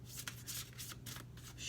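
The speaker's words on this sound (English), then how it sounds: "I hope you can hear that I am shuffling them." Oracle cards being shuffled by hand, a series of soft papery riffles and rubbing swishes in quick bursts, faint and close, over a low steady hum with no talking.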